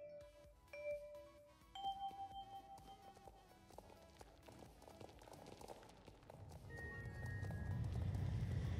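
Hoofbeats of a horse in the online game Star Stable, rhythmic clip-clop steps alongside chiming game tones and music, growing louder and busier toward the end.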